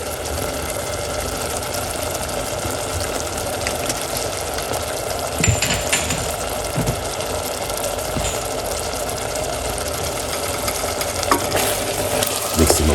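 Couscous stirred in a hot, sizzling pan, with a continuous frying hiss and occasional scraping knocks from the stirring, heard close and without talk.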